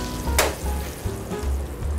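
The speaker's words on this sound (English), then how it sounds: "Just gonna baste it another couple of times" Halibut basted in a hot pan, giving a steady sizzle and fry with a sharp spoon-like clink near the start and soft low thumps, close and without voices.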